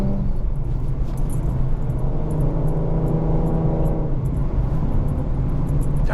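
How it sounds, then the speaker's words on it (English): Tuned Ford Mustang 3.7 V6 with an MPT tune and 3.73 gears, engine roaring steadily and loudly under acceleration with a rising harmonic drone, heard from inside the car with no talk. "God, I love the way this car sounds."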